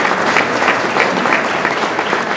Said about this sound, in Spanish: pido un aplauso para los propietarios y los felicito